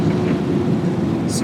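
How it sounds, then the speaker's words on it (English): Water sprays hard in a car wash tunnel during rinsing, a loud, steady rushing wash heard from inside the car, with a brief higher splash near the end. "Got some rinsing."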